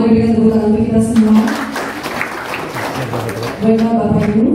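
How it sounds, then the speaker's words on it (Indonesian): Audience applause at a technical meeting for the Pesparawi event in Mimika Regency, a burst of clapping in the middle with a voice speaking before and after it. "Mari kita tepuk tangan untuk kita semua."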